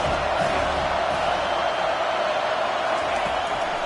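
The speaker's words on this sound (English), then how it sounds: "This crowd trying to make life miserable for this offense." Dense, steady roar of a college football stadium crowd during a play, loud and continuous with a broad wash of massed voices and no single voice standing out.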